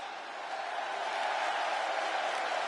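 Arena crowd in WWE 2K26 cheering as a superstar makes an entrance, a steady, loud roar of many voices that swells slightly and holds without break.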